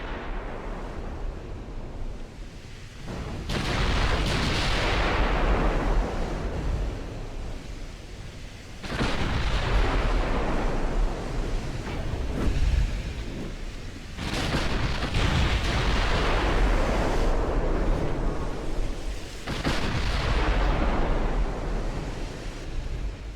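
Naval side guns fire in the warship game Ultimate Admiral Dreadnoughts, with about four heavy booming salvos spaced several seconds apart, each rolling off into a long rumbling decay over continuous sea and wind noise.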